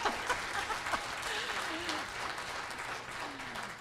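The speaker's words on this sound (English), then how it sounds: "everyone please break into applause" Audience applause at a health care talk on the future of care in Surrey, BC: a steady wash of clapping from a room of people, moderately distant, with faint voices mixed underneath.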